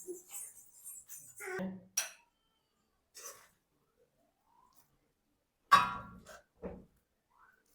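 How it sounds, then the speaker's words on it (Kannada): Vermicelli payasa being served into a bowl, with a few sharp clinks and clatters of dishes and a spoon, separated by quiet pauses and close by. "ಒಂದು ಬೌಲ್ಗೆ ಸರ್ವ್ ಮಾಡ್ಕೋತೀನಿ"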